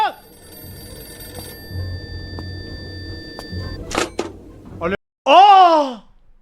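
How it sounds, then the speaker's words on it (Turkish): A telephone rings with sustained electronic tones during a horror-themed night, under excited voices talking and exclaiming, followed by a loud, rising wail. "Telefon!"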